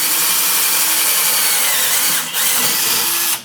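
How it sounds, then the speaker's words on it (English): Hand drill boring a hole in the cast-iron casting of a vintage 10-inch Atlas table saw, a loud steady grinding whir with two short pauses, no talk. "I'm just going to drill it by hand."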